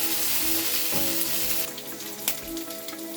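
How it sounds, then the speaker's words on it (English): Chicken gizzards frying with golden-brown onions for a gizzard curry, a loud, dense sizzle close up with spoon clinks and stirring; the hiss briefly drops then resumes, with no speech. "you're going to add our gizzard. Then fry them for about 30 seconds."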